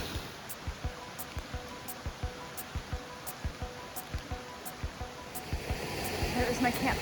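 Steady rush of a waterfall near a backcountry campsite at Spruce Knob, a continuous broadband roar with regular faint thumps throughout, swelling slightly louder toward the end.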